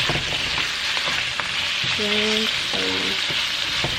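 Onion, cabbage and chayote fry in a hot pan with a loud, steady sizzle, light stirring clicks and a couple of brief squeaky tones partway through.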